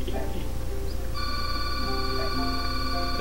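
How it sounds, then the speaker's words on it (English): A phone rings in-game in Final Fantasy X, steady electronic ringtone tones starting about a second in and sustained to the end over a constant low background hum. "That's my phone."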